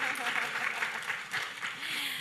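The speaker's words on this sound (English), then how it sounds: "The way you are clapping, you have really enjoyed this conversation." Forum audience applause keeps going in an indoor hall, an even, moderately loud patter of many hands with some voices mixed in underneath.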